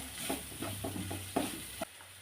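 Chili and coriander powder fry in a pan for Kerala-style egg curry, a soft continuous sizzle broken by rhythmic stirring scrapes of a spoon against the pan.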